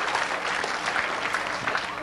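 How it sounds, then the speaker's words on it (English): An audience applauds an orchestra with steady, dense clapping from a crowd, lasting about two seconds. "Give them a round of applause, folks."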